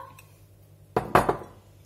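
Grated courgette stirred into a tuna and ricotta quiche filling in a bowl: a few close clinks and scrapes of utensil against the dish, bunched together in one short burst, then quiet.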